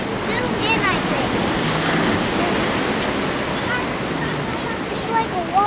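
Big ocean swell crashing along the rocky northern beach path at Zapallar, a continuous loud roar of surf with wind buffeting the microphone and people talking over it.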